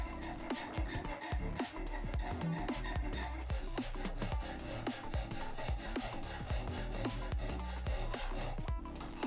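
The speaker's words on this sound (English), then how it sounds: "The round files were used for the curves and the small square and triangular files were very efficient on the ears of the bat." Small round, square and triangular hand files rasp on a metal Batarang, a run of close, uneven back-and-forth scraping strokes, with no talking.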